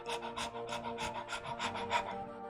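Pebbles the pet dog pants happily in the game Choices: Sunkissed, a quick even run of breathy huffs, close and fairly soft, with nothing else heard.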